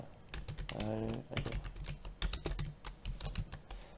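Computer keyboard typing during an Android app coding tutorial, a steady run of close, crisp key clicks with quiet background hum and a short stretch of faint tonal sound partway through.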